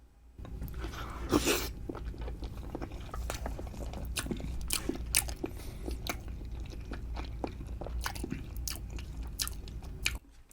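Someone bites and chews a chilled boiled egg up close in a mukbang setting, with steady soft wet chewing and squishing sounds and a few sharper bites, no talking.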